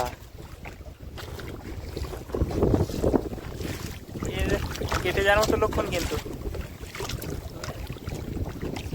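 Strong wind gusting over an open river in the Sundarban during boat fishing, a steady rushing buffet with water movement around the boat, while people talk throughout.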